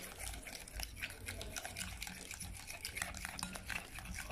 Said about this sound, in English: So you continue mixing.